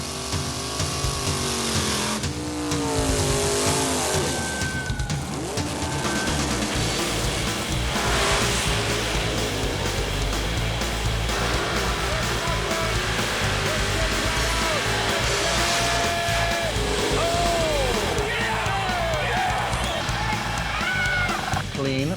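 A small block Chevy in a 1978 Monza racing a 1965 Mustang down a drag strip, with loud engines roaring and rising in pitch through the pass while an announcer talks over the noise.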